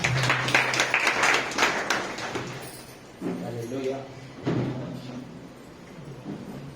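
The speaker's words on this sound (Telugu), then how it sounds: "చప్పట్లు కొడదాం" A church congregation clapping during a Sunday service, a dense burst of applause over the first few seconds that fades out, followed by a voice speaking with a few thumps in the room.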